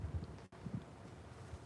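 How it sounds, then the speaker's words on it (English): Gusty wind in the Phoenix desert buffets an outdoor microphone with a low, rumbling roar that drops out for a moment before picking up again. "Yeah, the wind is,"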